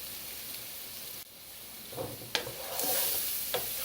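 Peppers and onions sauté in a pan with a soft continuous sizzle, broken by a few sharp scrapes and stirring knocks toward the end, close by and with no talking.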